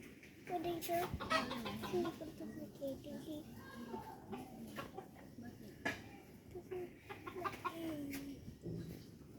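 Chickens cluck in a rural Bangladeshi homestead where farm animals are kept, the bird calls coming in short bursts throughout under and between steady talking.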